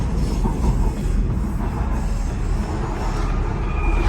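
A Docklands Light Railway train in London runs steadily with a continuous low rumble and rolling wheel noise, close and fairly loud throughout, with no voices.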